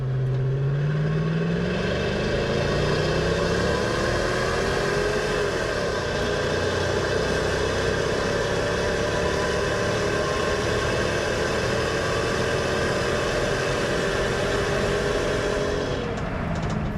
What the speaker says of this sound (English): you got a good supercharger whine coming from the front up there